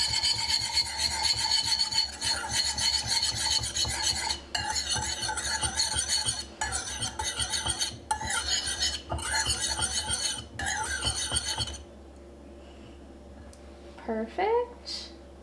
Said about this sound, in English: we're gonna go ahead and whisk this all together.